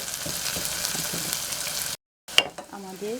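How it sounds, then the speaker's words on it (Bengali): Onions frying in a pan for noodles, a steady close sizzle that cuts out briefly, then returns with a stir and faint clatter. "পেঁয়াজটা একটু ব্রাউন হয়ে আসার পর্যন্ত আমরা একটু ভেজে নেব।"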